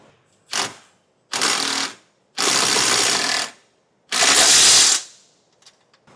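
Bolts being run in with a ratchet on a 2025 Jeep Wrangler base plate, four loud close bursts of rapid ratcheting clicks, each about half a second to a second long, separated by brief silences.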